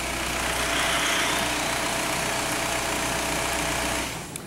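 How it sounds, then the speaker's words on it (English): A steady Volkswagen TDI diesel engine with an overboost fault idles with a low, even rumble, then cuts out near the end as the noise drops away. "And that shuts the engine off"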